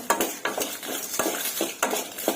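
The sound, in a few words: dried red chilies being stirred into a frying pan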